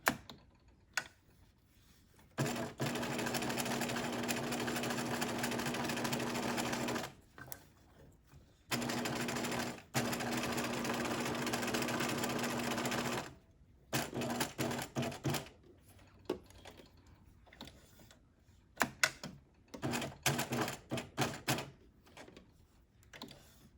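A sewing machine stitches a one-piece welt pocket in bursts of steady whirring, with several stops and restarts for pivoting, and then a run of shorter, choppier bursts toward the end.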